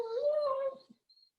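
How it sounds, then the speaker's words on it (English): A pet dog named Fletcher gives one close, tonal whimpering howl lasting under a second, then falls quiet apart from a faint trailing squeak. "Sorry about my dog."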